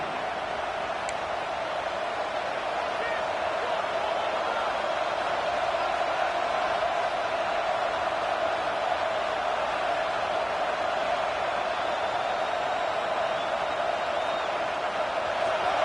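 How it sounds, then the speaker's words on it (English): Football stadium crowd during an LSU game timeout, a dense, continuous roar of many voices, steady and loud with no breaks for the whole stretch. "It's early, but this crowd is fired up. Listen to this noise here."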